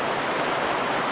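Heavy torrential rain pours down on a sailboat, a dense, steady roar of drops with no pauses, loud and close throughout.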